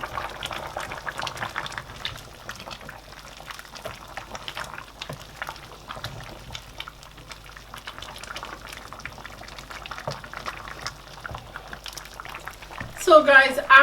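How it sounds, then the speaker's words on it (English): Oha soup with achi boiling in a covered pot, a soft steady bubbling and simmering texture throughout, with a brief louder clatter near the end. "I'm going to allow that to boil for like 2 to 3 minutes."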